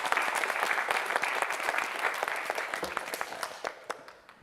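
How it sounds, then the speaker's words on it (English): Dense, even clapping from an audience at a closing ceremony carries on steadily throughout, moderately loud at first and gradually thinning toward the end. "And a round of applause really for every group."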